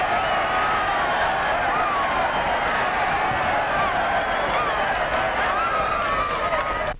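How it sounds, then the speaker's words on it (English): A large crowd cheers steadily for a ball player's score, a dense, loud roar sustained throughout, with scattered shouts and some clapping, cutting off at the end. "and get a cheer like this"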